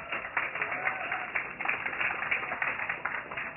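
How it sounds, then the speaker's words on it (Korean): Dense crowd applause at a StarCraft league award ceremony fills the whole stretch, steady and fairly loud, with many hands clapping at once and no clear pauses. "여러분 박수 부탁드리겠습니다."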